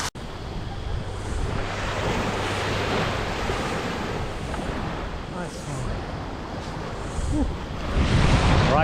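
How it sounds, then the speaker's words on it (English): Surf washes steadily onto a beach near Sydney Harbour in North Sydney, a broad continuous roar with wind buffeting the microphone and a swell of louder wave noise near the end. "we made it to the beach"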